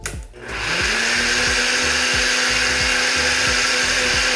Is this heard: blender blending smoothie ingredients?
yes